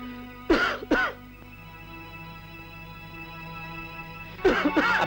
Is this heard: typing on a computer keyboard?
no